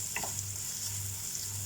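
Chopped medium onion frying in a pan for palak paneer, a steady soft sizzle with low hum and a couple of brief utensil clicks, no talk.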